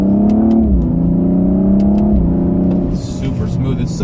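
A turbocharged BMW car engine revs hard and climbs through the gears with quick shift dips, loud and close from inside the cabin, then eases off.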